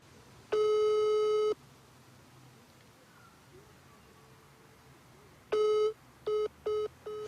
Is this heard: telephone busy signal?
yes